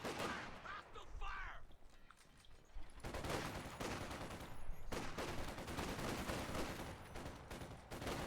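Machine gun fire in a strategy video game chatters in long, dense bursts amid steady battle noise, fairly quiet overall, with a voice talking over it early on.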